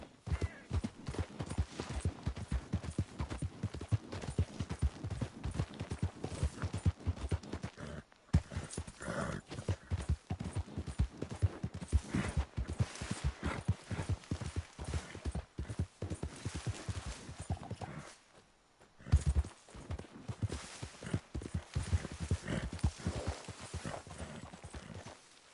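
Horse hooves clip-clop in a steady, continuous rhythm for the whole stretch, loud and close, with a short break near the end before the hoofbeats pick up again.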